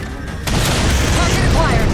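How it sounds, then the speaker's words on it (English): A railgun fires at Covenant Phantoms in Halo 4, a heavy boom hitting about halfway in and followed by a sustained roaring, crackling blast, loud and mixed with game voices. "Target those phantoms for the railgun to shoot down."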